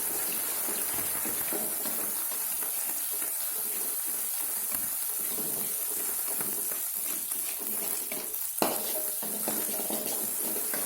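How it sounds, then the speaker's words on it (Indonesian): Eggs sizzle in a pan as a utensil stirs and scrapes, with a steady hiss and a sharp clink near the end. "Kita goreng telurnya teman-teman,"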